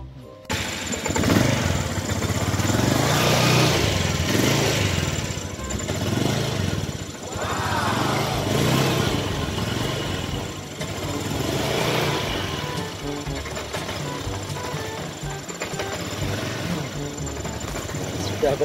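A motorcycle engine with a faulty voltage regulator is started and revved. It turns over and catches, then idles and revs in rising and falling swells, with someone talking over it throughout.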